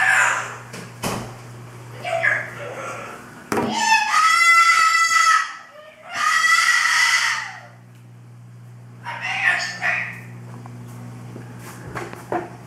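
A bird gives several loud, harsh squawking calls at night in bursts separated by pauses, close by, over a faint steady hum.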